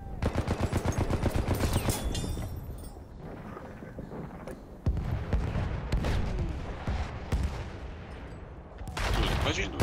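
Rapid gunfire rattles through a Battlefield match, dense automatic bursts near the start, a sharp boom around the middle, then scattered shots and another loud volley at the end, with faint voices now and then.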